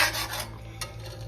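Masala being stirred in a pan while Bengali tel koi cooks, a steady soft scraping and rubbing of a spoon against the pan over a low kitchen hum, close and fairly quiet with one brighter scrape partway through.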